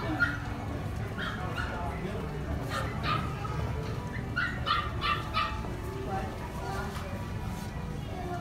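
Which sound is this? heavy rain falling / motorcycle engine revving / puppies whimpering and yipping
puppies whimpering and yipping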